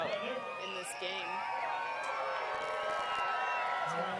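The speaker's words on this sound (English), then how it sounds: "The crowd is really getting into this game" A crowd at an ultimate frisbee game between the All-Star Ultimate Tour and Denver Molly Brown cheers and whoops steadily, a broad, moderately distant roar with a commentator talking over it.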